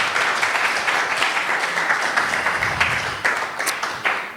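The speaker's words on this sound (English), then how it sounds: "Let's give him one more round of applause." Steady applause from an audience at an end-of-summer lockdown gathering, dense continuous clapping that swells and dips with a few sharper claps standing out, no voices over it.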